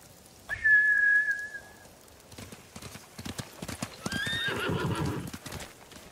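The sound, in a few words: horses galloping and neighing, video game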